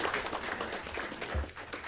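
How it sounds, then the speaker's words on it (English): Applause breaks out at a city council meeting for a council member, a steady patter of clapping from the audience that fills the short moment and fades slightly toward the end. "let's give her a round of applause"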